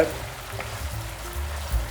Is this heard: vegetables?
yes